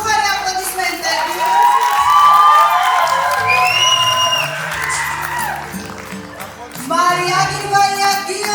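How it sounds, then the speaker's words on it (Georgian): Audience at a school banquet for Zugdidi Public School No. 3 in Georgia, loud cheering, whooping and shouts with some clapping, swelling and then easing off while a voice speaks over it. "უფრო გუხარი აპლოდისმენტები"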